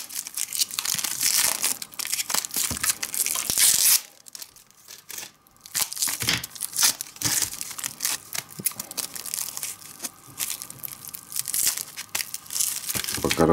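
Sticky tape is torn and peeled off a sealed parcel of commemorative mint tokens by gloved hands, with loud, crackly ripping and crinkling that goes on almost continuously and stops briefly partway through.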